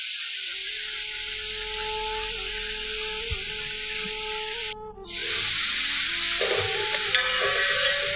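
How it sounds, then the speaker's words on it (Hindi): Potato lachha strands frying in hot oil give a loud, steady sizzle and hiss that runs nearly unbroken, dipping briefly midway before surging back as the strands are stirred. "ये लच्छे हमारे सिकने लगे हैं, इनका कलर भी चेंज हो गया है और आवाज भी आने लगी है"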